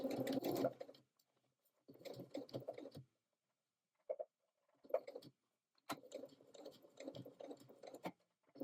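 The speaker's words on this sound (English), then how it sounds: "we're going to sew the welt in place along that stitch line" A sewing machine stitches a welt onto a wool coat in short separate bursts of rapid mechanical whirring, with brief silent pauses between runs, heard close and quiet.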